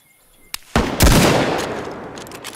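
Gunfire in the video game DayZ: a sharp single crack followed by a loud, rolling burst of shots that echoes and decays, with a faint click at the end and no speech.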